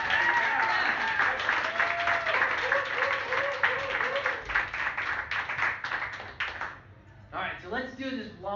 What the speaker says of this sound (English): Another big round of applause for MJ and Senthil, guys.